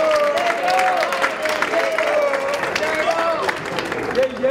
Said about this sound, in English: Clap it up for Diego,